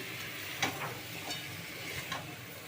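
Fried potatoes and chicken cooking with spices in a pan for a lightly spiced meat curry: a soft, steady sizzle with a few sharp scraping stir clicks, close by and with no talk.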